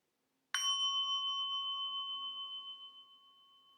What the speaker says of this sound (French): je me prépare à écouter un son de cloche